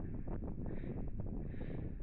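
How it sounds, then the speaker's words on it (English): Steady wind buffeting the microphone on an overcast, exposed fell top, a continuous low rumbling roar with no talk. "As you can see, it's windy, or you can hear it's windy."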